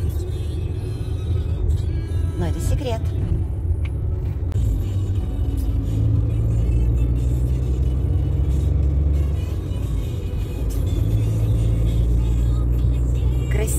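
A car travelling along an autumn road toward Molodechno gives a steady low engine and road rumble from inside the cabin, with a short spoken remark near the start.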